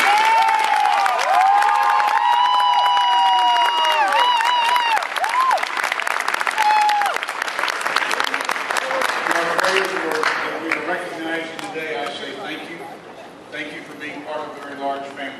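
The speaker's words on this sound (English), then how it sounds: "Let's give a nice round of applause to all of you." Audience at a signing ceremony applauds steadily, with cheering voices and whistles over the clapping, which fades after about ten seconds as scattered voices and chatter take over.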